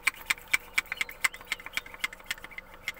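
A small engine idles after fuel has been bled through its lines, giving a steady, evenly spaced knocking tick about four times a second, close by and with no voices.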